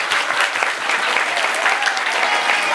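Loud applause from a school audience at a junior high event, a dense, steady clatter of many hands filling the hall for a few seconds, with no talk over it.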